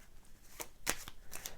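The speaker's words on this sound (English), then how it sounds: "Try to find the 4 aces in a shuffled deck of cards." A deck of playing cards is shuffled close by in a few quick, crisp riffling bursts with short pauses between them, and no voices.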